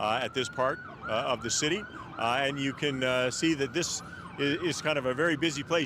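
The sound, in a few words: emergency vehicle sirens in the street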